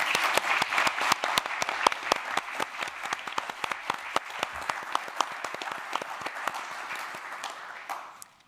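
Audience applause for the speakers at a science conference, a room full of people clapping with distinct individual claps standing out, thinning and tapering off at the close.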